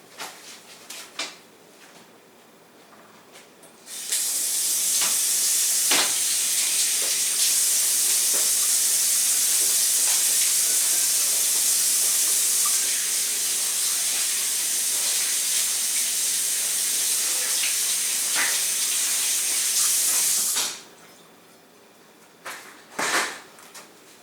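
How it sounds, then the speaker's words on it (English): A tap runs for hands being washed: a steady rushing hiss that lasts about sixteen seconds, framed by light clicks and handling knocks before and after. "now it's time for me to wash my hands."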